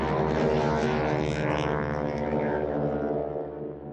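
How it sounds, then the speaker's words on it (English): A real airplane's engine drones loud and steady with a dense, rumbling harmonic roar, easing off slightly near the end. No voices are heard over it. "That's the sound of real airplanes."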